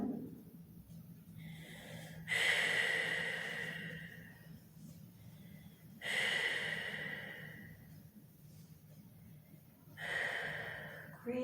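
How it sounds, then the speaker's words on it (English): Slow deep breaths in and out during a yoga child's pose, three long, close airy exhalations spaced a few seconds apart with quiet inhales between. "Take a couple of deep breaths in and out."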